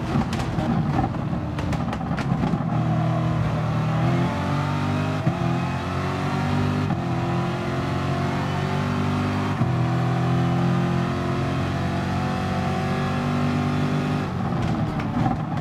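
Race cars in GT Sport roar and rev loudly as they overtake, with engine pitch shifting through gear changes and several cars passing close together, no voices.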